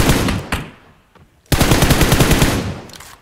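M4 rifle bursts in PUBG Mobile, loud and close: a sustained rattling stream at the start, a short pause, then a second long rapid volley that trails off near the end.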